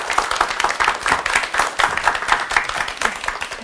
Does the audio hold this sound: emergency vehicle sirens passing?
no